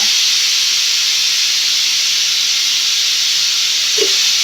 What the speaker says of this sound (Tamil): 3 விசில் வந்துடுச்சு. இப்போ ஆஃப் பண்ணிடலாம்.